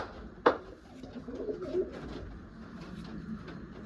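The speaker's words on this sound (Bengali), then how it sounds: "পায়রা খুব কমই পাওয়া যায়, অনেক রিকোয়েস্টের পরে পাওয়া পায়রা" A pigeon coos in soft, low throaty murmurs, close by, after a brief sharp click near the start, with faint background rustle and no speech.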